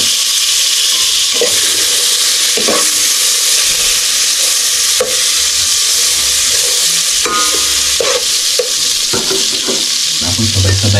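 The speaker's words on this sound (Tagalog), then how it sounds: "Margarin ang ating panggisa mga sulo para mabango ba." Garlic, onion and ginger sautéing in margarine in a pan, with a steady loud sizzle and repeated scrapes and knocks of a utensil stirring throughout.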